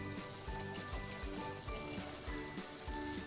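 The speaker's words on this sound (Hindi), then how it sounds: "3 से 4 मिनट के लिए स्लो फ्लेम पे हम इसको कुक करेंगे ताकि मसाला अच्छे से भुन जाए।" Chicken tikka masala paste frying slowly in a covered pan on low flame: a steady soft sizzle and bubbling, with faint regular pops and ticks throughout, no voices.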